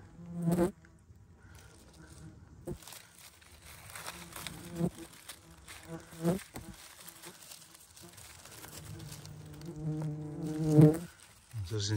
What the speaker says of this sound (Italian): Sentite il rumore, ma avrò mille mosche addosso.